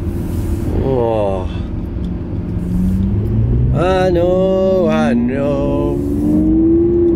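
A tuned Lamborghini Aventador S engine hums inside the cabin, its pitch climbing steadily as the car accelerates, while someone talks over it.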